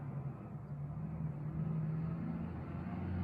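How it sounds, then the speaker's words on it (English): Faint low rumble of cars passing outside, heard indoors as a continuous distant drone with no talking. "Sorry if you can hear the cars."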